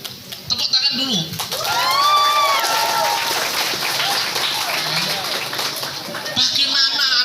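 An audience at a school ceremony for an MOU signing between PT. BAI and SMKN 1 Mempawah Hilir breaks into steady applause lasting several seconds, with a speaker talking over the clapping.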